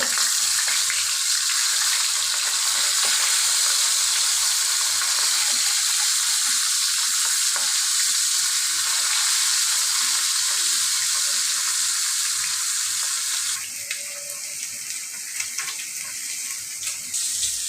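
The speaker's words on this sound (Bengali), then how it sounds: "মাছটা আমার ভাজা শেষ" Fish frying in oil in a pan on a home stove, a loud, steady crackling sizzle that runs unbroken and eases slightly toward the end, with no voices.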